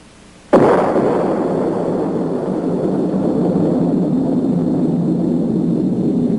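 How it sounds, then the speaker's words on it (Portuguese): The first atomic bomb explosion hits with a sudden sharp blast, then rolls on as a long, loud, sustained roar that holds without fading. "A primeira explosão atômica chocou o mundo."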